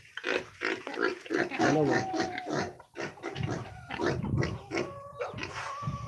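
Pigs grunt and oink close by, a busy snuffling chorus, with someone briefly speaking among them.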